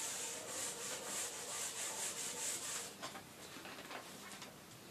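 Writing being rubbed off a classroom board by a maths teacher, with a steady, scratchy back-and-forth swishing that is close and continuous, then fading into lighter strokes; no talking.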